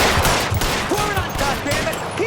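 Gunfire in the L.A. Noire video game, rapid bursts of shots cracking close together, while voices shout over the shooting.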